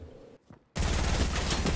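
Gunfire in the Fortnite video game, a dense burst of rapid shots crashing in after a brief lull and continuing loudly to the end, with no talk over it.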